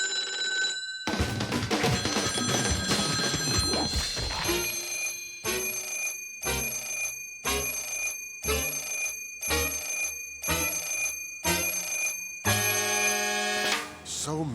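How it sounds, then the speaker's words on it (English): Telephone bell from the game Sam & Max ringing in a steady sequence of about eight short bursts with brief gaps, loud and close, after a stretch of busy music-like sound. "we could always count on that phone to ring."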